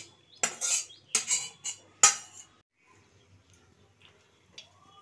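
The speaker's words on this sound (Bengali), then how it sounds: "আমি এই কড়াই থেকে ঢেলে নিচ্ছি" Boiled pumpkin greens are scraped and poured out of a metal wok, with several sharp metallic clinks and clatters in quick bursts over the first two seconds, then near silence with a few faint taps.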